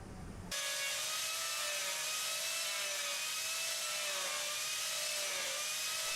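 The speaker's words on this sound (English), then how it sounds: "The turbo plane proves extremely effective for rapid material removal and surprisingly flat results." A turbo plane grinds away wood and epoxy fill on end-grain log work, starting abruptly into a loud, sustained high whirring scrape with a wavering pitch that continues unbroken.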